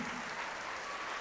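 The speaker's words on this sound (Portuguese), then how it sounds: "E enquanto você aplaude," A church congregation applauds in worship, a dense, steady wash of clapping that fills the short moment without pause.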